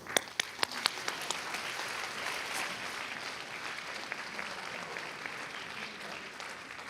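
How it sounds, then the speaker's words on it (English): Audience applause for school orchestra students at a concert, opening with a few sharp individual claps before settling into steady, full clapping across a hall, continuing without voices. "Let's give these students a round of applause."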